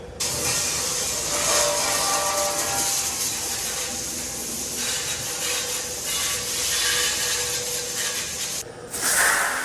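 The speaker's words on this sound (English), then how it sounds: "let's wash these steps off here real quick" Steady broadband hiss of water spraying onto milkhouse steps during a rinse-down, continuous and close for nearly ten seconds, with a short break and a burst near the end.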